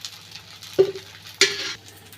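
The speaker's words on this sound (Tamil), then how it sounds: "இப்போ அடை தோசை சுட்டு எடுத்துக்கலாம்." Pumpkin adai dosa cooks in oil on a pan; two brief bursts of sizzle and a light scrape over a low steady hum, close and fairly faint.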